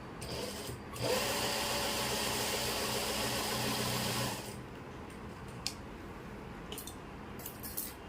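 Sewing machine stitching pleats on an Afghani salwar, a fast, steady mechanical whirr running close and loud for about three seconds, then stopping, followed by quiet handling clicks.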